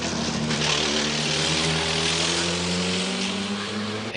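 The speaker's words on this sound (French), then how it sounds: "Vous l'avez entendu, le moteur de la Toyota" A Toyota race car at the 1994 Le Mans 24 Hours roars past with a steady, loud engine drone and a gently shifting pitch, sustained and close without any talk.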